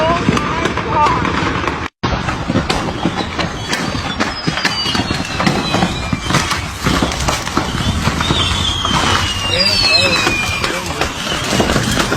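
Fireworks pop and crackle in rapid, chaotic bursts after a car crashed into a fireworks store, loud and continuous, with excited voices talking over the noise.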